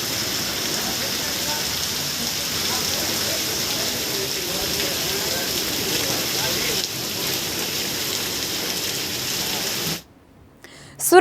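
Monsoon rain falls in Ahmedabad, Gujarat, as a steady, loud, even hiss that lasts about ten seconds and then stops abruptly.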